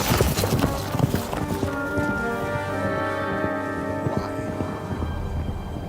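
Horse hooves clip-clop steadily on ground in the medieval game Kingdom Come Deliverance 2, a close rhythmic trot under ambient rain-like noise and sustained musical tones, with no talk.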